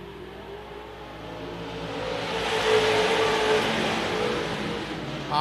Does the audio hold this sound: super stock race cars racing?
yes